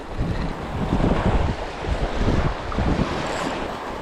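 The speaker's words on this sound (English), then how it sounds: "There's the breeze just picked back up again. Just got a big gust there like." Wind gusts at the Cumbrian seashore during bass fishing, buffeting the microphone with a broad, rushing roar that swells and eases over the sound of the surf, loud and close throughout.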